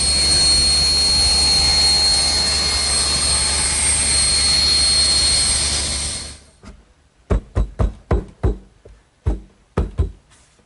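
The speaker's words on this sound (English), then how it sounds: "My table saw to make all the bevel cuts with the blade also tilted at 5" A table saw with its blade tilted for bevel cuts runs loud and steady with a sustained high whine, then spins down and gives way to a series of sharp, separate knocks and clatters.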